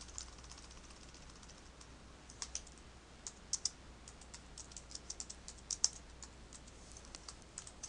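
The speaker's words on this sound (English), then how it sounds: "Now I'd like to edit the words and type in my own." Soft, distant keystrokes tap on a computer keyboard in uneven little bursts over a quiet room hum, with no talking.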